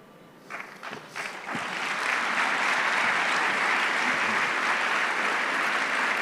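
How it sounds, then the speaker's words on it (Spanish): Audience applause at a talk between a player and coach: a few scattered claps start it off, then the clapping swells into a full, steady round that stays loud to the end. "Me sacó un aplauso, Julio."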